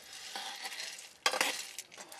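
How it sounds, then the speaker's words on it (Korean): Coffee beans harvested in an East Timor village being stirred while they roast in a pan, heard as a steady scraping, rustling sizzle with a louder burst of close stirring strokes partway through. "그 시각 엄마는 커피를 볶고 있습니다"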